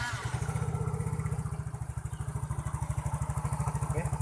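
A Yamaha Mio J scooter engine, started with the choke, runs at a steady idle with a close, even, rapid putter and a faint mechanical clatter, heard alone.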